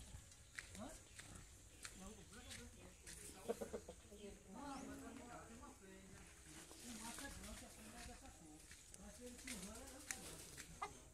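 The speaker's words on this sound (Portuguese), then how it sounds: "galinha guarnizé" Bantam hens cluck and chatter among farm fowl, a continuous busy run of short calls under people talking outdoors, moderately close and fairly soft.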